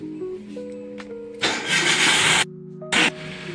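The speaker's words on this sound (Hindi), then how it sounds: "ये सेल्फ की आवाज़ है" A Maruti Alto 800's faulty starter motor grinds in two bursts, one about a second long and a shorter one after a brief gap, over a low rumbling background.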